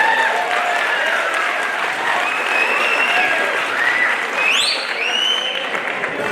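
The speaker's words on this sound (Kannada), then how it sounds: "ಹೊಡಿರಿ ಚಪ್ಪಾಳಿ" A crowd at a Kannada stand-up comedy show breaks into loud, sustained applause, with a few sharp whistles rising through the clapping near the end.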